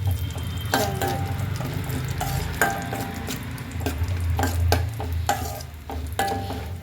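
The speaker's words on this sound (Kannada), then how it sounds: "ಸ್ವಲ್ಪ ತುಪ್ಪ ಹಾಕಿದ್ದೀನಿ, ಅದಕ್ಕೆ ದ್ರಾಕ್ಷಿ, ಬಾದಾಮಿ ಫ್ರೈ ಮಾಡ್ಕೋಬೇಕು ಚೆನ್ನಾಗಿ." Raisins and almonds fry in ghee in a pan, giving a steady soft sizzle broken by repeated scraping stir strokes, close and fairly loud, with no talking.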